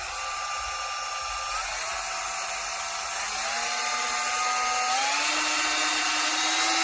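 A Dremel 8240 12V cordless rotary tool runs at slow speed with a smooth, fairly quiet electric whine, close by and alone. Its pitch creeps gradually upward over several seconds.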